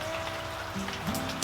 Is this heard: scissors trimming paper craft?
no